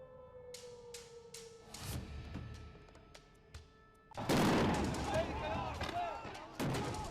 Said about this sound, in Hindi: उन्हें खदेड़ने के लिए गोलियां चलाई जा रही हैं।